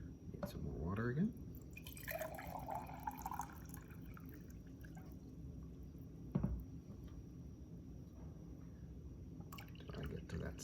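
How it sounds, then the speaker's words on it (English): Water poured into a tray during a topographic map lab demo, with a brief pour and trickling drips near the start, then faint dripping and patter under a nearby voice. "Need some more water again."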